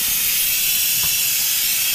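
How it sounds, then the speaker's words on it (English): An Instant Pot pressure cooker vents steam from its release valve after cooking corned beef brisket, a loud, unbroken high-pitched hiss held at constant strength, with no talking. "Time's up, let the pressure out."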